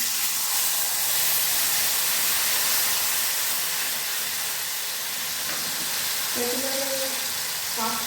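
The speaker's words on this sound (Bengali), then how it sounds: "তেঁতুলের কাতটা আমি এই তেলটাই দিয়ে দেবো দেখুন" Tamarind pulp hitting hot oil for coriander pickle bursts into a loud, broad hissing sizzle that holds steady and slowly eases, with a short tonal clink near the end.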